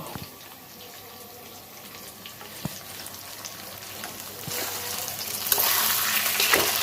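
Mutton frying in a pan while being stirred: a continuous close sizzle with scraping and clinks, which swells louder and more hissing toward the end, with no talking.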